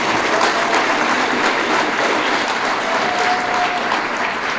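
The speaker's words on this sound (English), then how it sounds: "Let's give them a round of applause." Audience applause at a political event, a steady, dense wash of clapping from a large crowd that holds at an even level for the full length, with no voices over it.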